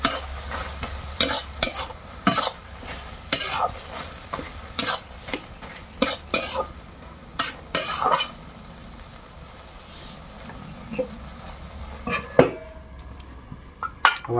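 Vegetables stirred in a pot in a village kitchen, with repeated sharp clinks and scrapes of a utensil against metal in irregular bursts, a faint sizzle underneath and a bird calling in the background.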